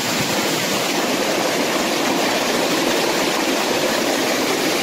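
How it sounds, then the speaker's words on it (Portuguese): A small, seemingly artificial cascade above the Caracol waterfall in Parque do Caracol pours with a steady, dense, loud rush of falling water, unbroken and alone, with no voices. "Aqui também acima da cascata do Caracol, uma cascata aparentemente artificial"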